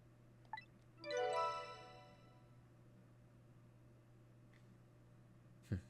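A phone book update notification chime from the video game Ghost Trick, a bright bell-like jingle of rapid tones that rings out clearly and fades over about a second, with a steady low hum and quieter blips before and after.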